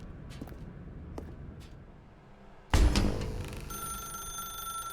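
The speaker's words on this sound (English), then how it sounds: "Now pick up the phone." A telephone in The Stanley Parable: Ultra Deluxe bursts into loud, sustained electronic ringing after a few quiet seconds of faint ambient clicks, then keeps sounding steadily.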